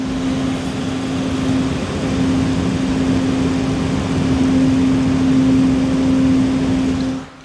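Fans of a Cooler Master MasterLiquid Atmos 240mm AIO liquid cooler at 100% speed produce a loud, constant airy whir with a steady tonal drone running underneath, close and unbroken until it drops away at the end.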